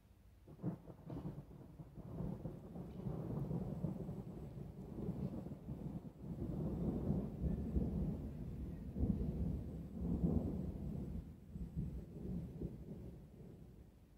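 Distant thunder rolls and rumbles low and continuous, swelling and fading over several seconds, fairly quiet with no voices.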